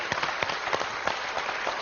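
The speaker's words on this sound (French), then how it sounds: "très applaudi" Studio audience applause on the French TV quiz show Questions pour un Champion: a dense, even patter of many hands clapping, moderately loud and steady through the short stretch, with no voices over it.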